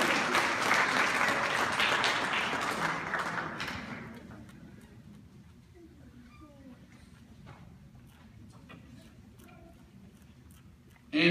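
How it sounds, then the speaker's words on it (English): An audience applauding after the medal-winning students of a high school bocce team are named. A dense burst of clapping fades away over about four seconds into quiet room noise with scattered faint claps. "give them a round of applause again for representing Lackey and the five Bocce."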